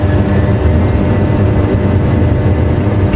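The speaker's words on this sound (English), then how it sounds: "Engine stabilized, set takeoff thrust." Aircraft jet engines run up to takeoff thrust, a loud, continuous broadband roar heard alone without any speech.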